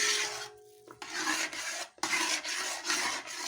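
A spoon stirs thick jackfruit halwa cooked with ghee in a pan, producing a rough scraping rasp. The strokes repeat in uneven sweeps over a few seconds, close up, with brief gaps between them.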